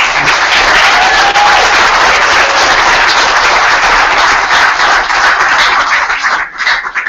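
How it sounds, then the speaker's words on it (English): Dense, loud applause from an audience at a school arts and poetry day event, sustained for several seconds before tapering off near the end. "So let's give them a round of applause to start."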